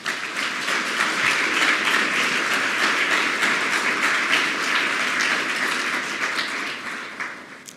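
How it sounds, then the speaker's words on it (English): An audience at a university state-of-the-campus address claps warmly, a full, even wash of applause with sharp individual claps that tapers off toward the end. "Please give them another round of applause."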